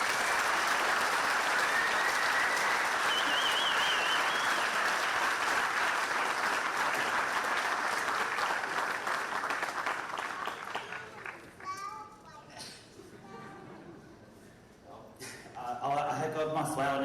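An audience applauds rangers at the ninth World Ranger Congress in Sauraha, Chitwan; dense sustained clapping fills the first ten seconds, then thins into scattered claps and murmuring voices before a short renewed burst.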